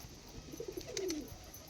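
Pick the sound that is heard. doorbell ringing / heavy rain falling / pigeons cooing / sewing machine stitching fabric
pigeons cooing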